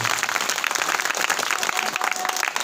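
At a religious katha gathering, an audience bursts into sustained applause: dense, lively clapping from many hands that stays loud and steady throughout.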